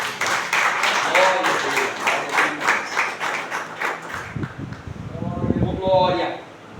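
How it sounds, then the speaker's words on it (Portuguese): Church congregation at a family worship service claps in a steady rhythmic beat for about four seconds, fairly close and lively, then stops as a voice speaks and cheers. "aplauda o Senhor bem forte"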